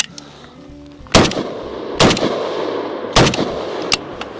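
Gunfire from a Palmetto AK-102, a US-made 5.56 AK-pattern rifle, firing Tula 5.56 ammunition: four sharp, loud single shots spaced roughly a second apart, each with a short ringing decay, over quiet outdoor background.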